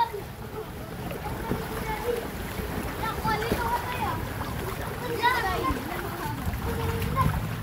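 People swimming and splashing through flooded street water, with steady watery sloshing and splashes under excited voices and children talking nearby.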